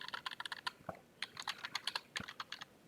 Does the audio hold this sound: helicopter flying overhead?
no